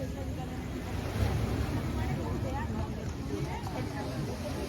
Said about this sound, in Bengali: এই শব্দটাই, ঢেউয়ের শব্দ আলাদাই